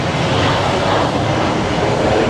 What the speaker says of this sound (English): There's a blooming business jet taking off right there.